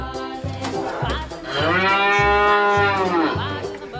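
A cow gives one long, loud, close moo that rises and then falls away over several seconds, heard above a soft rhythmic low background beat.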